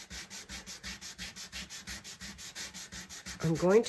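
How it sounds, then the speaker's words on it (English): A piece of sandpaper rubbed back and forth in steady, rhythmic strokes, close and moderately loud, with a rougher scrape at the very end. "This is a piece of sandpaper that I've been using for different things."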